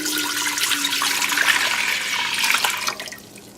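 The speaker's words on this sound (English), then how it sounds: "what I'm going to do in this pot is I'm going to take my water." Water pours steadily into a cooking pot with a loud, hissing splash that holds for about three seconds and then tapers off as the flow stops.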